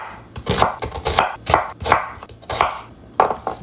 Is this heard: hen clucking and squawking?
no